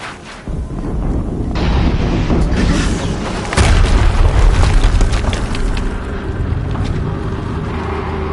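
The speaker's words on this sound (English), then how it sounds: "Another explosion." Explosions in the video game Horizon Zero Dawn: a loud, sustained roaring blast with crackling debris, swelling into a heavier booming hit midway and then rumbling on without letup.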